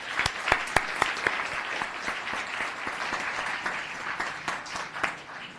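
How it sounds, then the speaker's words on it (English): A town council meeting audience gives another round of applause for 8th grade students, a crowd of hands clapping steadily at moderate loudness with a few sharper, nearer claps standing out early on. "So one more round of applause."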